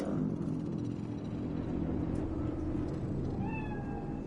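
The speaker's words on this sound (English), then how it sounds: "Fine-looking feline. Thought they'd all disappeared from the city." A cat meows in the video game Cyberpunk 2077. A low rumbling city ambience fills the background, and near the end a few short, clear mewing calls rise above it.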